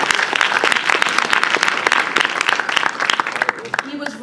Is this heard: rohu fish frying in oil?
no